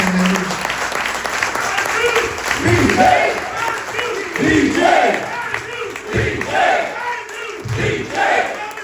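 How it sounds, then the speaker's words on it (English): An audience at a union remembrance event for the 1985 Pittsburgh lockout claps and calls out, with cheers and shouting rising over the applause in waves while voices speak over it. "give them a round of applause, please"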